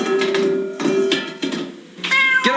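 A cat meows several times in drawn-out, tonal cries, close and fairly loud, with short pauses between calls.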